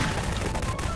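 A single gunshot in the Garry's Mod video game, a loud, dense burst of gunfire noise filling the whole second, with voices faintly underneath.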